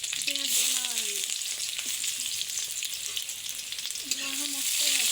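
Cumin, chili, garlic and onion fry in a pan for a tribal egg and dal dish, giving a steady close sizzle with a few soft stirring knocks throughout.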